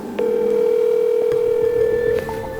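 A telephone call rings out unanswered, heard as a loud steady ringback tone holding for about two seconds before cutting off, with faint tones trailing after.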